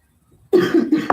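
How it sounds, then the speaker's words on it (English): A close, sharp cough bursts out, followed quickly by two more rough coughs in a row. "I'm going to cough a lot"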